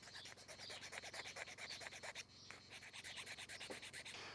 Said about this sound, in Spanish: Eso ya es mejor con lija, o sea, con la lija o una lima suave.